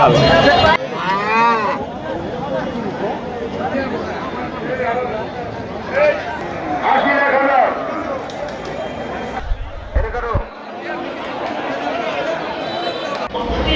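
A cow moos amid a busy outdoor cattle and goat market before Qurbani Eid in Bangladesh, with voices chattering, calling and haggling over prices throughout.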